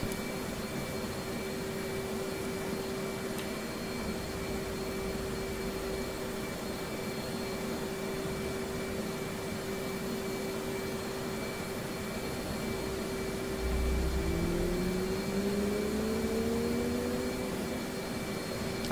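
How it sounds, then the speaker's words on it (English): An F/A-18C Hornet jet engine spools up during startup in the DCS flight simulator, a steady whining hum and broadband roar with a tone rising in pitch near the end as the engine winds up. "Now at this point, we'll go ahead and start the next engine."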